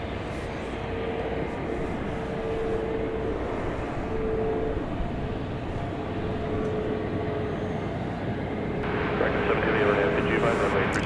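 An airliner in Allegheny retro livery approaches DFW Airport at night, giving a steady, distant jet roar under wind and background noise, with voices talking over it.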